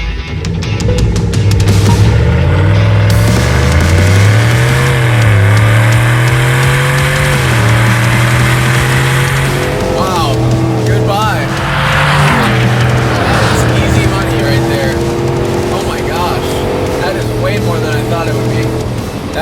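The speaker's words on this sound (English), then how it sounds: "let's see what the supercharged V8 does against the non-supercharged V8. So, boosted versus naturally aspirated." A supercharged V8 GMC Yukon Denali and a stock Cadillac Escalade accelerate hard side by side, loud engine roar climbing through gear changes with tire noise, while people talk over it.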